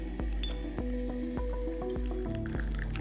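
Hot water being poured into a teapot to preheat it before brewing tea, a steady liquid fill with several sharp clinks and drips of ceramic repeating about every half second, close and clear.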